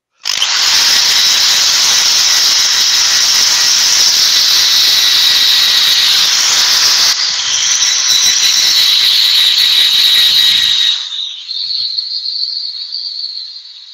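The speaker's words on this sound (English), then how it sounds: "so I'll just get that sanded off" A power sander works on wood to remove spots of dried super glue, a loud, continuous high whine with steady rattling buzz for about eleven seconds before winding down.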